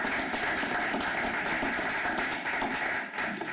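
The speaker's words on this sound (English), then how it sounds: "deserve a round of applause" Crowd applause during a Noblesville Common Council meeting, honoring the city street department: dense, steady clapping from many people across a room, sustained evenly throughout without speech.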